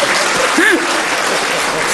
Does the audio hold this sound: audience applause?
yes